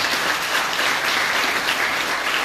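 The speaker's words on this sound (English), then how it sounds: "I think we need to just give a quick round of applause for the three clerks." An audience at a county attorney and clerk candidate forum applauds the three clerks, a dense, even round of clapping that carries loud and unbroken throughout.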